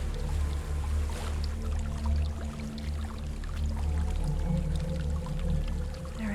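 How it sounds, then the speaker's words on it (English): A waterfall in Hellblade: Senua's Sacrifice pours steadily, a dense continuous rush of water heard alone at moderate volume. "There's a waterfall."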